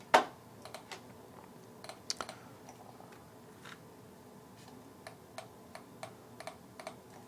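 Keys tapped on a computer keyboard while assembly code is written, scattered clicks in short irregular bursts with pauses, close but quiet, one sharper knock at the start, and no speech.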